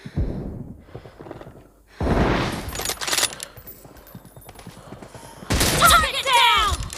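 Gunfire in PUBG Mobile, with sharp loud bursts of shots near the start and again toward the end, separated by quieter stretches, along with some game noises.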